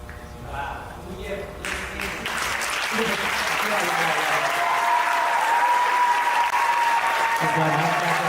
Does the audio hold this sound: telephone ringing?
no